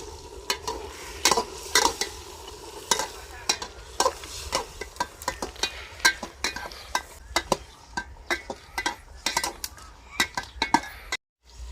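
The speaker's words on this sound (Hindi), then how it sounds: "अब हम गोश्त को अच्छी तरह भूनेंगे।" Chicken pieces being browned in a pot for biryani, outdoors in a field: continuous frying sizzle punctuated by repeated sharp metal clanks of a spoon scraping and striking the pan, alone without talk.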